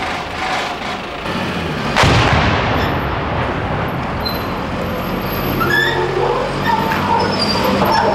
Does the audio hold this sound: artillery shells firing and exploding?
yes